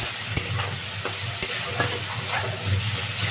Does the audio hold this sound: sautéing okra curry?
yes